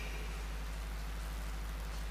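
Steady rain hisses continuously during an outdoor Islamic religious gathering in Indonesia, a uniform wash of noise over a low hum.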